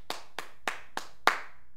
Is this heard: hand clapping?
yes